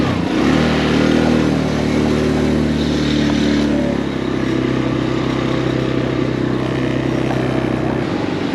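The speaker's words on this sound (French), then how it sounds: "On va faire du quad stop encore avec papy." A quad bike engine revs loudly and steadily up close in Cappadocia, Turkey, its rough mid-pitched drone holding for several seconds with a slight change partway through.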